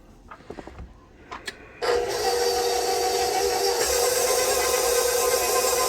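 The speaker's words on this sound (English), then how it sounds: "So for the KitchenAid Artesian, I usually do like a number 2." A KitchenAid Artisan stand mixer switches on after a few light clicks and handling sounds, then runs at speed 2 with a steady, loud motor whir and gear hum that continues unbroken to the end.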